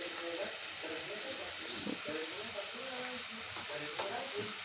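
Potatoes frying in a pan with turmeric and salt, a quiet steady sizzle and hiss, with indistinct voices murmuring underneath.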